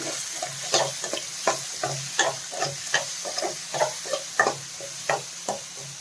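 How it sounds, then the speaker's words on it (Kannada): Bitter gourd frying with salt and turmeric in a pan: a steady sizzle broken by regular scraping stirs, about one every half second, close and clear with no talking. "ಉಪ್ಪು ಹಾಕ್ತಾ ಇದ್ದೀನಿ ಸ್ವಲ್ಪ ಫ್ರೈ ಆಗಲಿ"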